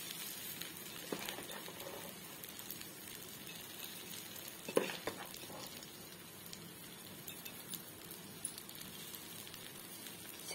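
A bread and egg omelette with onions frying in a pan gives a faint, steady sizzle with small crackles and one sharper tap midway, no voices.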